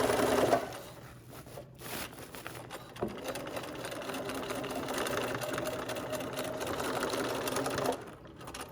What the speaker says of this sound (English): you're going to secure those first few stitches by going backwards, then front